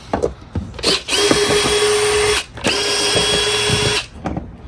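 Power tool loosening bolts on the air filter housing of a RAM 6.7 Cummins diesel truck, two loud sustained whirring bursts with short pauses and clicks between them, close up and without talk.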